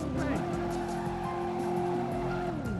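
A car in the video game Driver swings into a handbrake turn, tires squealing in a long sustained screech over a loud revving engine, close and continuous, with a voice speaking over it.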